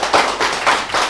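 A group claps hands in a brief burst during a meeting, quick rhythmic claps in rapid succession, moderately loud and close.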